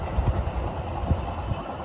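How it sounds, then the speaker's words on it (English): A train passes by, a steady low rumble with soft rhythmic thumps from the wheels on the rails, carrying on evenly through the whole short stretch. "we got a train going by."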